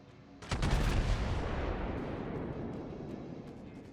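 The main guns of a Montana battleship in World of Warships fire as one booming salvo, a sharp crackling blast of several near-simultaneous shots that rolls into a long, slowly fading rumble, loud and close.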